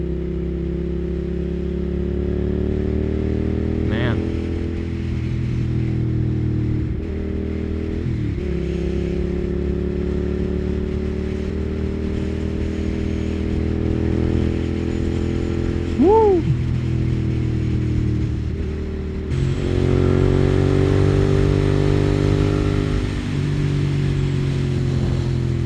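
A Suzuki SV 650 motorcycle engine hums and revs while riding, a loud continuous drone with pitch rising and falling through throttle changes, accompanied by wind.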